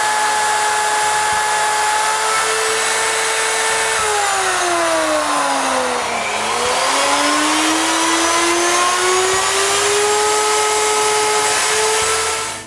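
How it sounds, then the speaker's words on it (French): A mortiser bores a 3/8-inch hole in wood, giving a loud steady motor whine close by whose pitch sags as the bit bites in, then climbs back up while it runs on with no talk. "je perce un trou de 3 huitièmes avec ma mortaiseuse"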